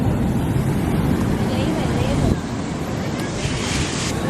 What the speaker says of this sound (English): These waves is crazy. I think the waves are kind of high.